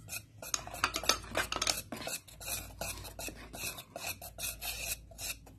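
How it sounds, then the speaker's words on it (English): Cooker cake batter being mixed in a bowl, a utensil scraping and clinking steadily against the sides in quick repeated strokes, close and fairly clear with no talking. "And you need to mix it well."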